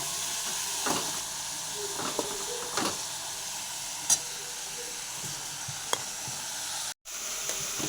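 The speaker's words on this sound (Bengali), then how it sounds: "এই যে পেঁয়াজ ভাজা হচ্ছে দেখুন" Onions fry in a pan with a steady, moderate sizzle and hiss, broken by a few soft stirring taps and one brief dropout near the end.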